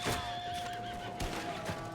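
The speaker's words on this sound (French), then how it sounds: "Oh cheval!" A horse in the video game Red Dead Redemption 2 lets out a short, close whinny amid a gunfight, with faint hoof clatter and other game sounds underneath.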